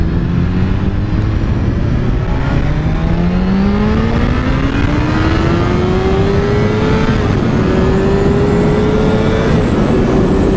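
A BMW S1000RR superbike with racing aids engaged accelerates hard on a road in Pakistan, its engine note climbing steadily in loud, continuous rising sweeps through the gears, close and unbroken for the whole stretch.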